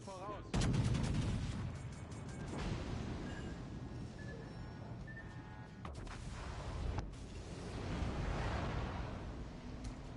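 Warship naval guns in World of Warships, a loud boom near the start followed by repeated heavy gunfire and rumbling explosions over a steady background roar.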